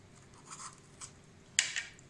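A kitchen knife scrapes and cuts around the top of a small capsicum being prepared for stuffing, with soft rubbing strokes followed by a sharper crisp cut near the end, close and quiet without talk.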